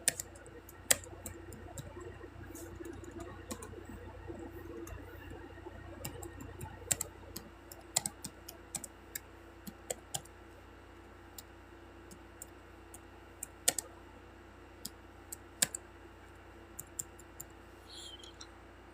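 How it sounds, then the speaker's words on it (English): Fingers type on a computer keyboard in a steady run of light key taps and sharper clicks over a quiet room hum, with no talking. "I'm typing something"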